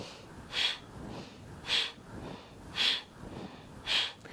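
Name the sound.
breath of fire yoga breathing, short quick inhales and exhales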